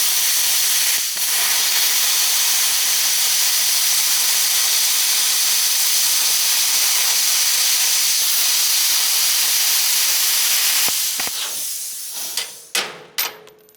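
A BestARC 110-volt plasma cutter slicing through 3/16-inch mild steel gives a loud, steady hiss for most of the run, then breaks off into a few sharp pops and bursts as the cut finishes.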